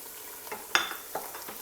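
Kofta curry masala fries in a pan, a soft low sizzle broken by a few light stirring clinks and scrapes, close and quiet, with no talk.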